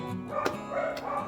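Dogs bark and yip in the background, faint and somewhat distant, with a few short overlapping barks over a steady room hum.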